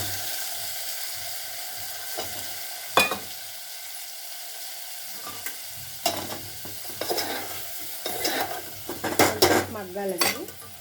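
Onions fry in a pan while a metal spoon stirs them, with a steady low sizzle under repeated clinks and scrapes against the pan that grow busier and louder toward the end.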